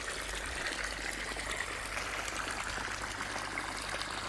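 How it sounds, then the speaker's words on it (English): A pump pushes water out of a koi pond at a quick rate, giving a constant splashing, trickling gush with a low rumble beneath, steady and close throughout. "Pumping some water pretty quick as well."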